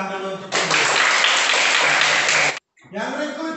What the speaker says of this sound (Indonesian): Tepuk tangan dulu untuk ini.